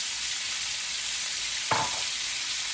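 Onions dropped into a hot greasy pan: a steady loud frying sizzle fills the clip, with a brief clatter as the onions hit the pan near the end, close by and without talking.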